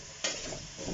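Mince browns in a pan, a steady sizzle with a sharp scrape of stirring near the start, close and moderately loud, with no talking.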